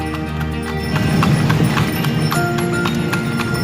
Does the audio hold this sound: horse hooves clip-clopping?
yes